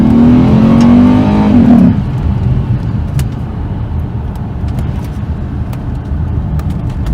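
A Cadillac CTS with modified intake and exhaust revs hard close by, a rising engine tone for about two seconds that cuts to a rougher, lower rumble with faint whooshing.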